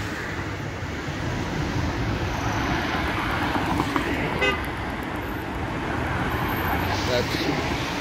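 Dense city car traffic in Iași rumbles steadily, with car horns honking briefly amid the broadband road noise; a voice talks over it.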